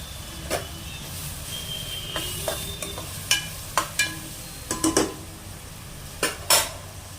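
Curry leaves tossed into hot oil and stirred, with a soft background sizzle under a series of sharp metallic scrapes and clinks of a spoon against the pan, irregular and close.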